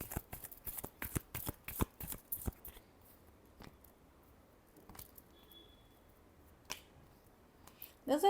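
Tarot cards are shuffled up close in a quick burst of riffling flutters, then come a few scattered soft taps and a last flutter.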